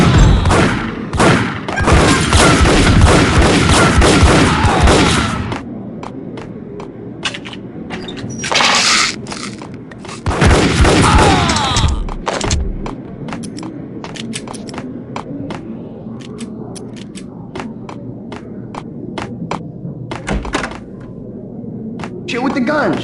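Gunfire in the Max Payne Mobile video game, rapid bursts of automatic shots and single loud cracks in several clusters, close and punchy, with voices talking between volleys.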